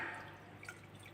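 Water trickling and dripping through a plant pot filter on a fish tank, a soft continuous close splash with faint drip accents and no talking.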